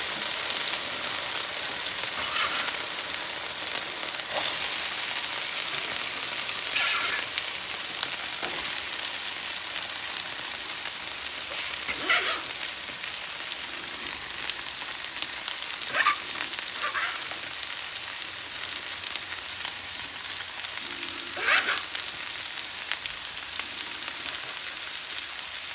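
Smoked sausage and potatoes fry in a skillet with a steady loud sizzle and crackle, broken by occasional scraping stirs, close by with no talking.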